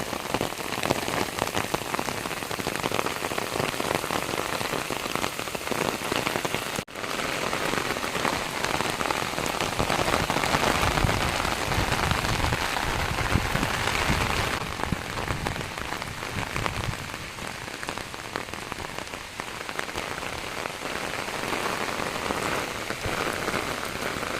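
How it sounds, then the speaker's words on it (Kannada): Heavy rain pours down on a dark evening while someone walks with an umbrella, a dense and continuous close roar of drops drumming on surfaces with no break. "ಮಳೆ ಕೂಡ ಜೋರು ಬಂತು ನೋಡಿ ಮಳೆ ಸ್ಟಾರ್ಟ್ ಆಯ್ತು"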